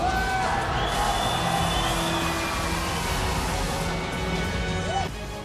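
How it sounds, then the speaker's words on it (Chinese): A crowd at a fighting match cheers and applauds for the winning fighter. The roar is loud and continuous, with dense, steady noise that drops away near the end. "让我把呐喊声和掌声送给他"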